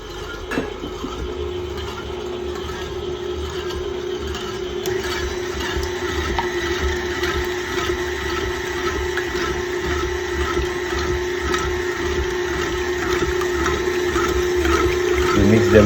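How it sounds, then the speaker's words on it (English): An electric mixer whips egg whites for a French meringue with a steady, continuous whirring motor hum that holds close and even, growing slightly louder toward the end. "first thing to do is to mix the white eggs slowly"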